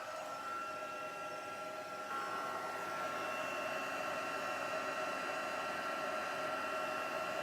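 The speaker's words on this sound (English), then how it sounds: "I'm going to bring my heat tool in. We're going to heat it up, and once this melts," An embossing heat tool blows steadily while melting embossing powder on a card, a continuous whirring fan hum with a slight step up in loudness after two seconds, close and alone without talk.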